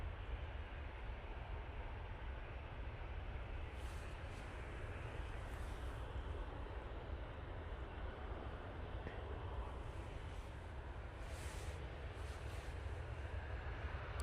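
Emirates airliner departing from runway 23L at Manchester Airport, a steady broad jet roar heard from a distance, constant and unbroken throughout with no voices.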